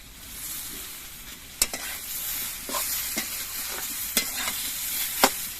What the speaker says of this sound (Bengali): এবার সব কিছু দিয়ে আবার কিছুক্ষণ কষিয়ে নেবো